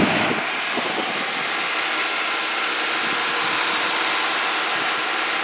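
A 2013 Chrysler Town and Country minivan's 3.6 liter engine idles steadily with a smooth, even hum and faint vibration, close and unbroken, with no talking.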